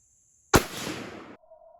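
A single sharp rifle shot firing an M62A1 tracer round cracks out loudly and abruptly, followed by a short decaying rumble of echo outdoors.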